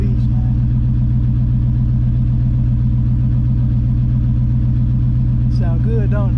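A 1994 Pontiac Firebird Trans Am, freshly back from the mechanic, idles with a loud, steady, deep rumble that stays constant throughout, with a brief voice breaking in near the end.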